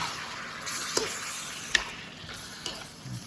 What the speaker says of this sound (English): Give that a mix around.